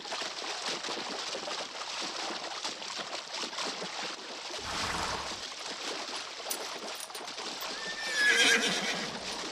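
Powerful working horses near a river in the Hallstatt region snort and whinny, with one clear neigh near the end over soft hoof clops and flowing water.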